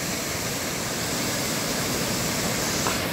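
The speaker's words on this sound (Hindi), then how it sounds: "यहाँ से पानी आ रहा है, जो गुफा जैसे दिख रहा है ऊपर में, हाँ वहीं से आ रहा है पानी" Water pours out at a dam from a cave-like opening up above, making a constant broadband rushing roar that stays steady and loud throughout with no breaks.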